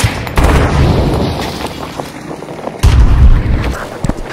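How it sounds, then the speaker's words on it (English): Grenade launch and blast in a military shooter video game: two heavy booming bursts, the second louder near the end, over a dense battlefield din of gunfire. "Launching grenade!"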